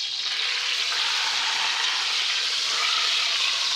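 Beef browning in a pan for a red wine braise with root vegetables, a loud, steady broadband sizzle that runs unbroken for the whole stretch, close up, with no voices over it.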